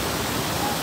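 Jog Falls in Karnataka, an 830-foot waterfall, sends up a steady, dense roar of falling water that fills the air evenly and without a break.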